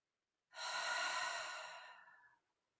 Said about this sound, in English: Repeat that noisy exhalation.